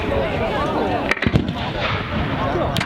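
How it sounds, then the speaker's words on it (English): Civil War reenactment artillery with rifled 6-pound cannons firing on an outdoor battlefield, heard as a couple of sharp booming reports in quick succession amid crowd noise and background chatter. "The artillery are brought into play."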